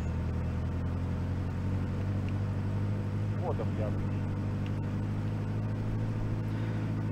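A steady, low car engine drone hums on without a break in Border Officer Simulator as the handbrake is released and the car drives off, with faint voices flickering briefly over it.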